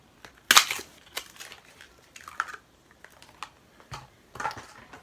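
Packaging for hair chalk is opened by hand, giving a series of crinkling, crackling and tapping handling noises in short irregular bursts, close by with no talk.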